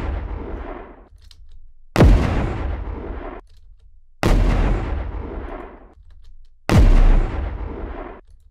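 Drum transients processed through the Boom Library Enforcer plugin, wet signal only: three loud, sharp, booming hits spaced about two and a half seconds apart, each with a bright attack and a dense decaying tail, alone without talk.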